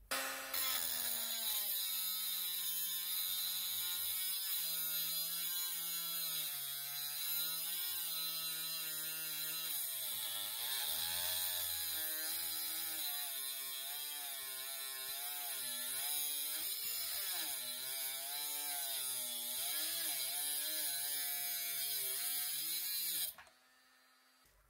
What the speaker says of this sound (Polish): Tak przecięła ta szlifierka na 2 amperogodzinnowej baterii. Teraz zobaczymy 4 amperogodziny.